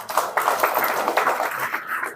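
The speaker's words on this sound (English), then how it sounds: "Just give her a big clap." An audience claps for a few seconds during a talk, a dense, fairly close patter of many hands with no speech over it.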